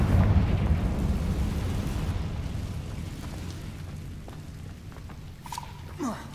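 A Confringo spell explosion in the video game Hogwarts Legacy lands as a loud, rumbling blast at the start and then fades over several seconds, with a few faint magical tones near the end.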